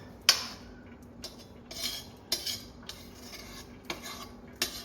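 A spoon or spatula scrapes and stirs thick homemade mava (khoa, reduced milk solids) in a pan, giving several sharp metallic clinks and scrapes against the pan over a steady low background hum.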